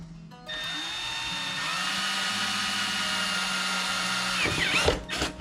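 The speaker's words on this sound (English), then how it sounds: "We can drill the hole for the wire." A power drill bores a 5/8 hole for wire on a Hogworkz tour pack light, a steady whirring motor drone held for several seconds before the bit breaks through and slows.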